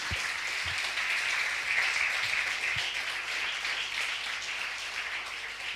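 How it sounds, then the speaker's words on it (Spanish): Church congregation applauding the Lord during a Spanish-language sermon, a dense, steady wash of many hands clapping at once, sustained and fairly loud throughout with no speech over it. "dale un aplauso al Señor"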